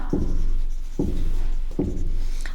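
Writing on a board during a biology lesson on chromosomes, three evenly spaced scratchy strokes close by over a steady room hum, no talk.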